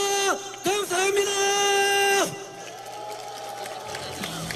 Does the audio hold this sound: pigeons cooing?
no